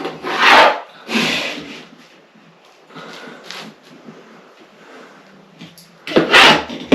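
A hand saw cutting through a bathroom wall panel in a rasping back-and-forth rhythm of several strokes, loud and close, with quieter scraping between.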